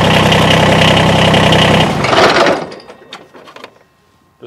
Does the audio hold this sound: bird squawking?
no